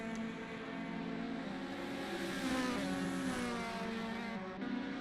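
Toyota Altezza race cars drone around Laguna Seca, engines holding a sustained revving tone that swells as a car draws nearer, distant and steady without speech.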